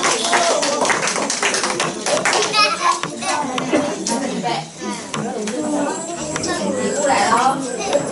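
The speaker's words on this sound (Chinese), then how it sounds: "好，掌声欢迎幼儿园" Children at a school Children's Day celebration clap and shout together in a dense, continuous crowd of small hands and voices, loud and steady throughout.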